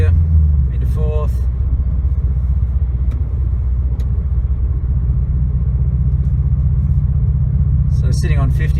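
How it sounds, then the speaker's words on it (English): Steady low engine and road rumble inside a 2017 Subaru WRX STI fitted with an Invidia R400 cat-back exhaust, cruising in 4th gear; muted, even drone throughout with a voice talking over it. "So sitting on 50 in 4th gear, not a great deal of exhaust noise coming through the inside of the vehicle."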